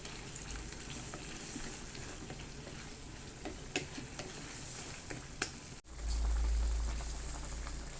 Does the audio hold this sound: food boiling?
yes